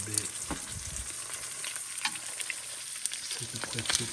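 Pork chops and peppers sizzle steadily in a hot pan, a continuous bright hiss with occasional crackles and pops, close and fairly loud with no talking.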